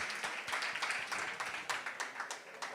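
Audience applause at the MTN Bushfire 2022 festival launch: a dense, steady round of many hands clapping together, sustained at even loudness throughout.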